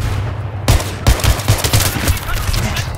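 Sniper rifle gunfire in a video game, an SVD-type rifle: several sharp, loud broadband shots at irregular intervals, each cracking over a steady low hum and a busy background din.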